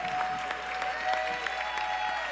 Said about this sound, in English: round of applause for our entire panel